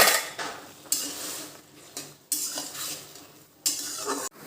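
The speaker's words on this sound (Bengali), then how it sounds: "এখন আমি এখানে নাড়া দিয়ে দেব।" Yardlong beans with garlic and green chilli being stirred in a wok at home, giving repeated scraping and clinking strokes of a utensil against metal in bursts, close and fairly quiet, with a faint sizzle underneath.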